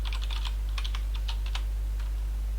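Quick bursts of keystrokes on a computer keyboard while entering Java code, clustered clicks in short runs with brief pauses, close and clear over a low steady hum.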